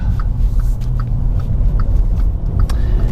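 A Volkswagen Mark V GTI's engine gives a low, steady rumble from inside the moving car, with faint periodic ticks over the droning road noise.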